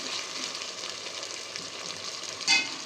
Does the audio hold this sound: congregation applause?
no